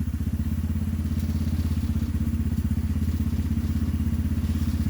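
Small engine of a Tao GK110 go-kart running close by, a steady rapid putter with rhythmic chugging pulses, loud and continuous with no talk.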